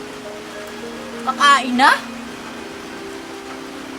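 A steady hiss of heavy rain falls continuously in the background while someone speaks briefly over it in the middle.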